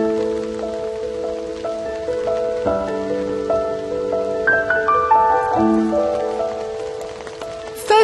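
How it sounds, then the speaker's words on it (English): Steady rain patters on a coastline throughout while a soft melodic instrumental tune plays over it. "It's raining again"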